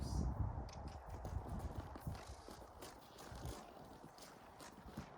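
A mare's hooves clip-clop at a steady forward walking rhythm on firm ground under a rider, fairly quiet and close, with faint scraping between steps.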